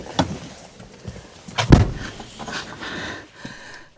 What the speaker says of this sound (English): unlock the other door.